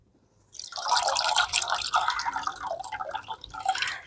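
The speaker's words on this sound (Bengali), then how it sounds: "এবার আমি জল থেকে তুলে নেব" A washed raw potato is lifted out of a bowl of water, sending a steady patter of drips and trickles back into it, close and fairly loud after a brief quiet start.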